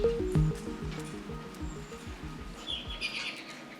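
Parrots give sharp, repeated chirps and tweets at close range, with rhythmic rustling and tapping underneath.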